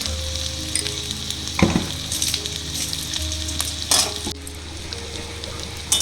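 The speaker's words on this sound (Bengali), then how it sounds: "যে সবজিগুলো কেটে রেখেছিলাম সেই সব সবজিগুলো দেওয়া হয়ে গেছে কড়াইতে" Potatoes and eggplant sizzling steadily in hot oil in a wok, with a few clanks of a spatula stirring against the pan.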